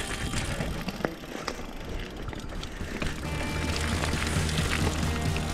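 Mountain bike rolling down a forest trail at Antur Stiniog bike park in Wales, a steady rattle of tyres, chain and gravel with wind rush growing louder through the second half, no talk.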